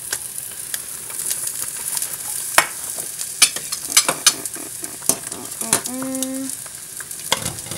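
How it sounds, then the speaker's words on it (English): Beans go into a hot pan with carrots for a vegetarian Asian noodle soup, bringing a steady loud sizzle, scraping stirs and clinks of a utensil, with no one talking. "Okay, so now I'm going to add in the beans."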